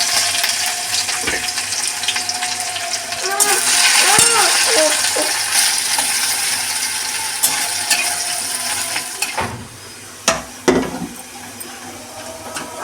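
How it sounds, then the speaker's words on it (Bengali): Whole cumin seeds, onion and garlic sizzle in hot oil with a steady crackling hiss, then it thins out and a few metallic clatters ring out near the end. "তেল গরম হয়ে গেছে, দিয়ে দেবো গোটা জিরে, দিয়ে দেবো পেঁয়াজ আর রসুন"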